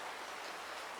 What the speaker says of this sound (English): It's raining, it's wet, I don't want to go outside.